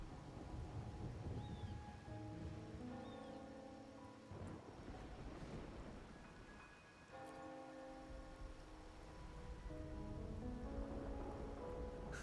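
Steady rain with rolling thunder in the game Wuthering Waves, a continuous stormy wash under faint music tones, swelling and easing across the stretch with no talk.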